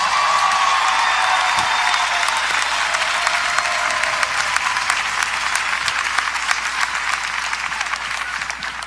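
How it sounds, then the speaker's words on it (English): A large arena crowd at a CrossFit semifinal event applauds and cheers loudly and continuously, dense clapping with scattered shouts, sustained for the whole stretch. "Make some noise for Bailey Rail."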